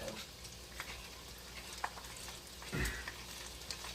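A spoon stirs sauce for candy corn buffalo chicken wings in a pan, soft wet scraping and a faint sizzle-like patter, quiet and close, with a brief louder scrape near the end.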